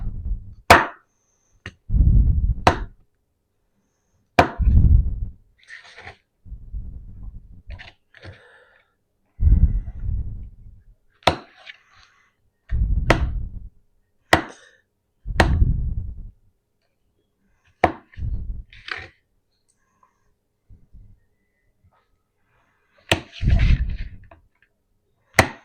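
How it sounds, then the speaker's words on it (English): Knife slicing halved mushrooms on a cutting board for spicy noodles, a series of sharp, close chopping taps in irregular bursts with quiet gaps between them. "I usually dice them in half and then kind of slice them."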